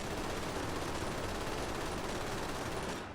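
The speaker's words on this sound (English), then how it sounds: "I love the sounds of these MGs." Sustained machine gun fire from World War II infantry MGs in the strategy game Men of War: Assault Squad 2, near and loud as a dense continuous rattle of gunfire that keeps going for the whole stretch before easing off at the end.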